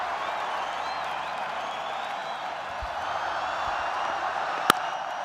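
A cricket crowd at a Pakistan versus Sri Lanka ODI applauds Babar's fifty, a steady distant wash of clapping and cheering, with a single sharp click near the end.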